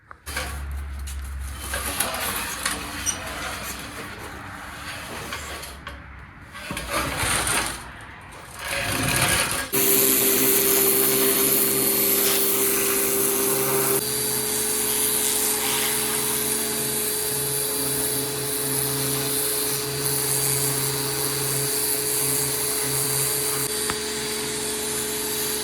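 A pressure washer blasting grime off a removed C6 automatic transmission from a 1978 Ford F100 runs as a loud, steady motorized whine after a rougher, broken start, holding continuous and close for most of the stretch.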